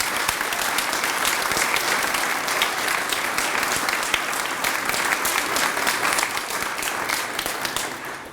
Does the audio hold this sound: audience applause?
yes